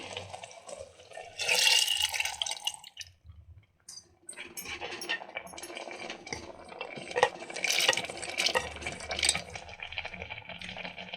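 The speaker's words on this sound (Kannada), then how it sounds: "ನಾನಿಲ್ಲಿ ಇದರ ನೀರು ಜೊತೆಗೇನೆ ಆ್ಯಡ್ ಮಾಡ್ಕೊಳ್ತಿದ್ದೀನಿ" Soaked lentils poured into a cooking pan together with their soaking water, splashing and sloshing in uneven bursts with brief pauses, followed by scraping and knocking against the pan.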